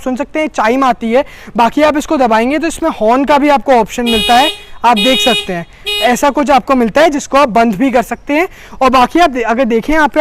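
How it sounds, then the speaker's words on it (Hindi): A 2020 Hyundai Venue Turbo SX+ DCT sounds its horn from the key fob in a couple of short, loud bursts midway through, with someone talking in Hindi close by before and after. "इसको दबाएंगे तो फिर एक हॉर्न की आपको आवाज़ आएगी।"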